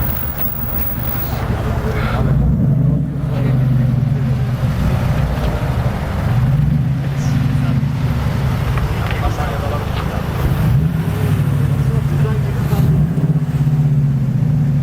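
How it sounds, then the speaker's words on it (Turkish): A car engine idles and revs low as the car maneuvers to park beside a Mercedes-AMG on a Warsaw street, close and steady throughout, with people talking over it. "Bizim AMG'nin yanına park ediyor şimdi."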